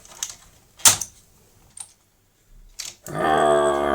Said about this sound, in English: I did find it difficult at times to remove some of the keys